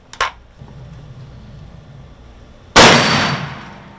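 A single sharp report from a .50 caliber traditional black powder rifle fired at a wild boar, loud and close with a long smoky decay, preceded by a faint click of the firing cap.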